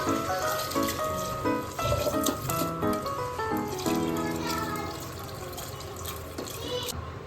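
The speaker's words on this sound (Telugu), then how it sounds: "త్రీ గ్లాసెస్ ఆఫ్ వాటర్ వేసుకొని దీంతో కలిపేసుకోవాలి" Water pours into a pressure cooker holding rice for chicken pulao, a close, continuous splashing and trickling with a few drips, with faint background tones.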